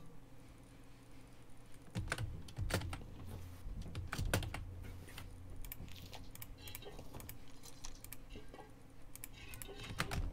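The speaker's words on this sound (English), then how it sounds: "these light switches, they're so primo, like I hardly touch the keyboard and I get a reaction." Typing on a keyboard with light switches while playing Rust, rapid irregular clacking keystrokes in bursts, close and fairly loud, with a few sharper clicks between runs.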